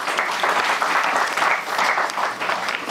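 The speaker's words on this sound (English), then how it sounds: "Round of applause, please." Sustained audience applause in a synagogue as a rabbi is welcomed to speak at a Torah lecture event; dense, steady clapping from a sizable crowd that holds an even level throughout.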